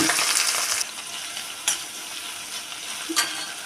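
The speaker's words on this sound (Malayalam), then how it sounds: "കുറച്ച് എണ്ണ അടുപ്പത്ത് വെച്ചിട്ട് കുറച്ച് കടുക് ഇടുക" Steady crackling sizzle of mustard seeds frying in hot oil, with a few sharper pops standing out against the continuous hiss.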